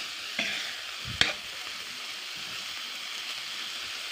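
Fried fish, tomato and onion get stirred with bitter gourd in a pan, a faint even sizzle broken by two sharp utensil clicks early on.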